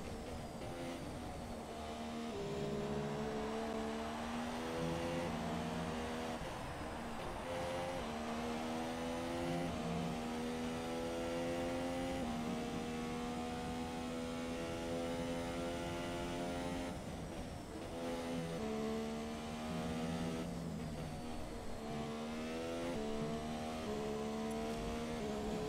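Formula 1 car engine in the F1 2017 racing game, screaming at high revs and shifting up early around 10,000 RPM, with repeated rising pitch sweeps broken by gear changes, loud and continuous throughout.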